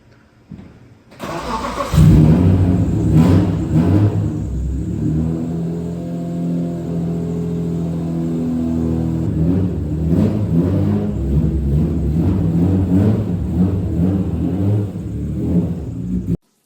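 A Toyota Celica engine cranks and catches, then runs loud and close with a steady rumbling idle and rising revs, continuing throughout before cutting off abruptly at the end.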